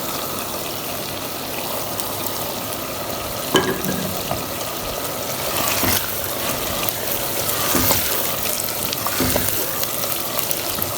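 Chicken and browning onions frying with garlic-ginger paste in a clay handi, a steady, loud sizzle throughout, punctuated by a few sharp scrapes and clatters of stirring.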